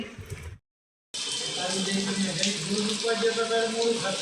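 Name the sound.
rain falling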